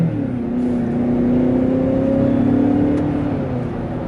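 A 2021 Ford Bronco Sport with a 245-horsepower 2-liter EcoBoost engine and 8-speed automatic accelerates, its engine note rising in a steady, loud climb heard from inside the cabin, with no speech.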